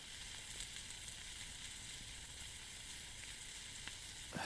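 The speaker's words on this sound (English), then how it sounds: "6 sizzling sausages sitting in a pan." Steady crackling sizzle of sausages frying in a pan at a wild campsite, continuous and fairly quiet, with no voices.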